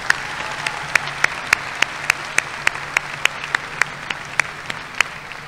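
Sparse, regular sharp claps, roughly three per second, ring out over a steady low hum at a high school commencement ceremony, more like a lone clapper keeping time than a full crowd.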